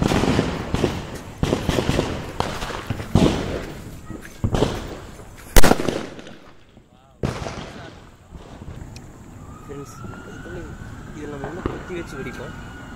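Rapid sharp bangs of a Diwali firecracker string crackle in uneven bursts, close and loud, then stop, followed by quieter talking.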